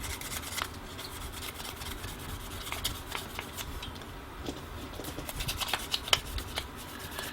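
Sandpaper scratches against cork in quick, repeated back-and-forth rasping strokes, close up and fairly quiet, with no talking.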